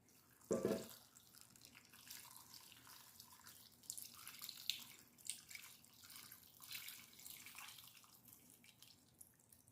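Beef broth splashes briefly into a pot, then a steady trickling and pouring continues with faint clatter in the background.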